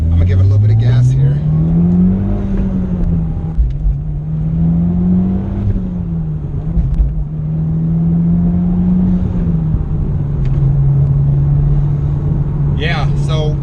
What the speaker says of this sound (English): I'm gonna give it a little bit of gas here